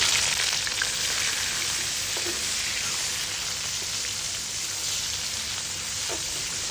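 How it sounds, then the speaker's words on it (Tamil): Steady sizzling and crackling of a chopped large onion frying in a hot pan, continuous and close, with a couple of faint stirring scrapes. "நல்லா வெங்காயம் வதக்கிடுச்சு."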